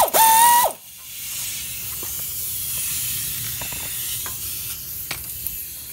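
A ratchet tool works the hub bearing bolts on a 2006 Honda Odyssey, giving a fast, close clicking burst at the start, then a steady hiss with a few sparse, faint clicks.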